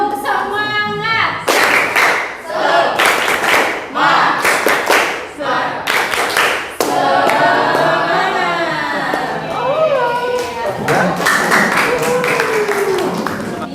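A group in an Indonesian teacher coaching session performs a rhythmic clap routine, bursts of sharp synchronized claps in short patterned sequences, with voices chanting and talking between and over the claps.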